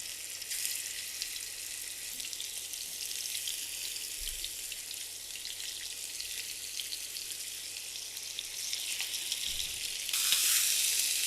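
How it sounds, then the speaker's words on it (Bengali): Fish fries in a little oil in a covered pan, a steady bright hiss and crackle that swells louder near the end, with no talking. "মাছগুলো আমি ভেজে নিয়েছি,"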